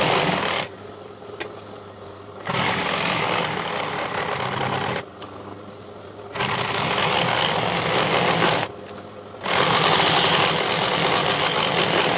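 A sewing machine stitches a ladies' pant in three loud whirring runs, each lasting a few seconds. Short quieter pauses separate the runs.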